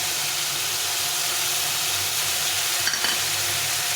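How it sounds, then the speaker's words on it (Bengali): Ginger paste and masala for a bata fish curry fry in oil with a dense, unbroken hiss. One brief stir stands out near the end. "দিয়ে এটাকে ভালো করে কষিয়ে নিই"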